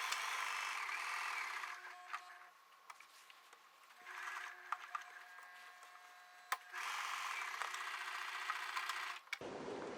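A sewing machine stitches a shirt collar in two sustained runs of fast, whirring stitching, separated by a quieter pause with faint clicks and handling sounds.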